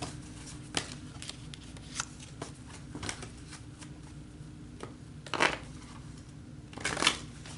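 Oracle energy cards are shuffled by hand in a close, quiet room, giving soft papery riffles and taps throughout. Two louder riffling bursts stand out near the end, and no voice is heard.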